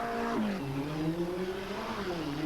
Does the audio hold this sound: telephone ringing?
no